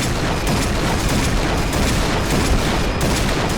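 A Barrett sniper rifle fires rapidly in the Point Blank video game, a loud, dense barrage of booming shots filling the whole stretch with no pause.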